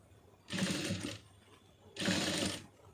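Sewing machine stitching a fabric seam in two loud bursts of roughly three-quarters and half a second, with a short pause between runs, no one talking.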